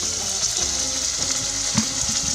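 Meat frying in oil over medium heat, a steady close sizzle with occasional pops and stirring scrapes, no voices.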